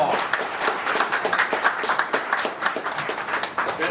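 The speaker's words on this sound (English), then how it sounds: "So let's give them all a big round of applause." Audience at a city council campaign event giving a round of applause, crisp individual claps from a modest crowd forming a lively, uneven patter close by.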